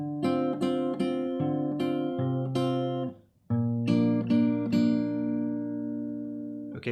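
Acoustic guitar in standard tuning plays the second part of the verse of a song, fingerpicked chords ringing out with thumb-picked bass roots, close and clear with a brief gap partway through and no talking.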